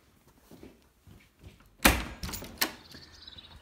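A front door of a Georgian cottage opens with a sharp thunk and a brief rattle, followed by a second knock, close by and fairly loud after a quiet stretch with no talking.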